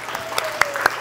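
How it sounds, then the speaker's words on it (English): Middle school chapel audience clapping for one another, a short burst of scattered claps nearby, fairly loud, with no talk over it. "Give yourselves a round of applause for each other."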